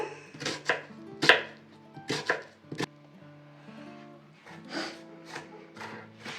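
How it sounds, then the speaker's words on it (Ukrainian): Onion being chopped on a cutting board for a borscht base, sharp knife chops in uneven bursts with short pauses, close and fairly quiet, no talking. "Цибулю я вже дорізала"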